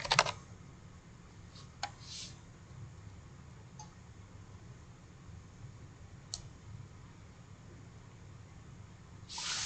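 Quiet typing on a computer keyboard, with sparse, soft key clicks and a few sharper taps spread over a steady low hiss, plus a short burst of quick clicks at the start and end.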